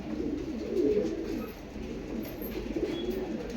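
Domestic pigeons in a loft give low, throaty coos that swell and fade in soft overlapping waves, close and steady over a faint background hum, with no voices.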